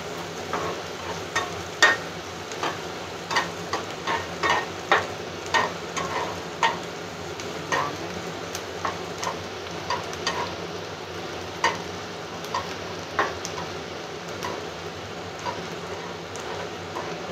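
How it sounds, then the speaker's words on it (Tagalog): Garlic and aromatics sauté in a pan under a steady sizzle, with regular rhythmic scrapes and taps of a spatula stirring, close and continuous. "Igisa natin ng mabuti para matanggal yung flavor dito."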